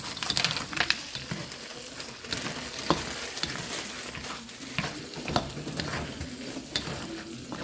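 Carrots and mixed vegetables stir-fried in a pan for homemade Chinese fried rice, a continuous sizzle with scraping stirring strokes and light clatter, no voices.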